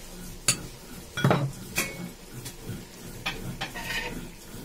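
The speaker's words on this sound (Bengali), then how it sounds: "চিনি দিয়ে ভালো করে নাড়ব।" Sugar being stirred into mango pickle in a pan: a spoon clinks and scrapes against the metal in a few separate knocks, close and moderately loud, with no talking.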